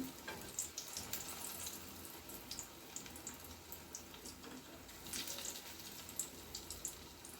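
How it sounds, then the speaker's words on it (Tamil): Murrel fish pieces sizzle steadily in hot oil in a pan while being turned over, with a continuous close crackling hiss and small irregular pops and spatters throughout. "நல்லா கொஞ்சம் திருப்பி திருப்பி விட்டு நல்லா இந்த மாதிரி வறுத்துக்குருவோம்"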